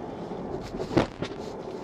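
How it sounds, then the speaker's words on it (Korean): Mercedes EQS 450 electric full-size SUV taking a speed bump a bit fast, one muffled thump from the rear suspension followed by a softer second knock, set against constant low interior road noise. "이런 식으로 약간 좀 빠르게 넘을 때 뒤쪽에서 쿵 하는 소리가 잠깐 방금 들렸잖아요"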